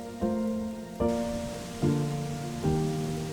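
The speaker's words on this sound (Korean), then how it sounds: "잠시 후 예보대로 비가 쏟아지기 시작했다." Rain pours down at night on an empty mountain campsite during a backpacking trip, a steady soft hiss running throughout while a few clear ringing tones sound over it.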